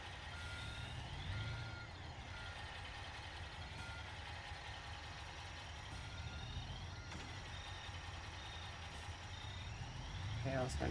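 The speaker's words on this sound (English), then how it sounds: "I have to back the truck up," A truck backing up in a video game, with regular high backup beeps repeating over a low idling engine rumble, steady and unbroken throughout.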